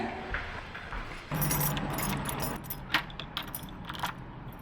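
Keys jangle and clink in short metallic bursts while a door is locked at a home being moved out of, close and fairly loud over a steady background hum, with no talking.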